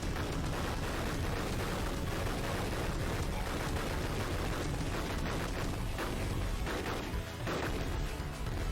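Grenades exploding in the Sega Genesis side-scroller Metal Dragon come as a dense run of crunchy, compressed blasts and gunfire, loud and continuous with no pauses.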